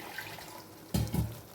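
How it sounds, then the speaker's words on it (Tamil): Water poured into a pot of eggplant curry (Tamil oil brinjal kulambu) during cooking: a short liquid splash in two quick bursts after a quiet stretch, close and moderately loud. "தண்ணி தேவைக்கு தகுந்த மாதிரி"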